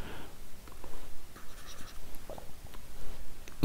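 Chalk or marker scratching on a lecture board, continuous scribbling strokes with small taps and pauses, close and moderately loud, with no talking.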